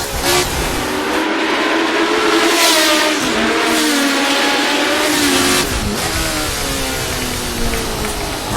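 A 1970 Grand Prix racing car engine in the Assetto Corsa sim, racing at Kyalami, screams loudly and steadily close by, with its pitch rising and falling through gear changes for the whole stretch.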